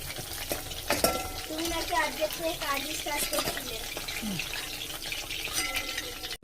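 Chicken pakora fries in hot oil, a continuous bubbling sizzle with scraping and stirring clatter close by, ending in a sudden stop.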